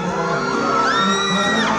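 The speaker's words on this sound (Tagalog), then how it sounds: "Dumadagundong ang hiyawan kapag nakakadaupang palad ng paboritong GMA stars na sina John Rex," Fans at a crowded live GMA event shout and whoop loudly together, a dense swelling roar of high-pitched cheers and screams close at hand.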